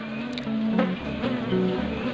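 Asian honey bees (Apis cerana) humming steadily at an active hive box, a continuous close buzz with wavering drone tones throughout.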